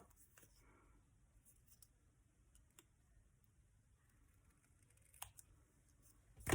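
Scissors trim craft material in a few faint, brief snips spread across an otherwise quiet stretch, with a louder rustle right at the end.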